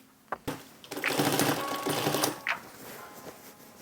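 A home sewing machine with a troublesome bobbin runs a short burst of stitching, with a few clicks and knocks before and after a couple of seconds of close, fast whirring.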